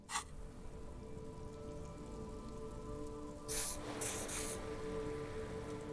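Steady rain falls in the video game Disco Elysium, a continuous soft hiss that holds at an even level throughout, with a couple of brief brighter spray-like bursts partway through and no voices.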